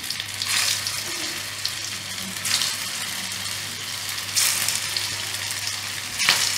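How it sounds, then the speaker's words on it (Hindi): Rohu fish kofta balls frying in hot mustard oil, a loud, continuous close sizzle with several sharp surges as more balls drop into the oil one by one, no voices. "इसके लिए सरसों का तेल मैंने इस्तेमाल किया और तेल गर्म हो जाने पर इसको एक एक करके पर छोड़ना है।"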